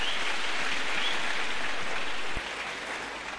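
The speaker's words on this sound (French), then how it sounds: "Acclamons la parole de Dieu." A church congregation applauding, a dense steady wash of clapping that fills the space at an even level before easing slightly near the end.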